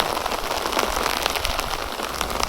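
Steady rain patters and crackles densely on surfaces beneath sakura trees in Japan, an even, continuous hiss of drops with no voices.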